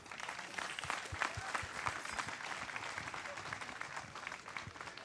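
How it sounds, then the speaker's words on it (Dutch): Applause from an outdoor festival crowd at a village event in Akkrum, a dense, steady wash of many hands clapping at moderate distance, with sharper individual claps standing out and faint voices underneath. "En een applaus voor al deze mensen."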